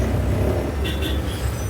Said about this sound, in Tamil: ஆனால் பயங்கர டிராஃபிக்கு